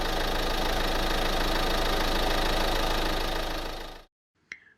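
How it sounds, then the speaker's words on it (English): A Texas diesel truck engine with a loud muffler runs steadily and loudly, a rough knocking idle filling the scene before cutting off abruptly, followed by a brief faint tone. "We hear a truck starting. Maybe it's quiet, but it gets louder."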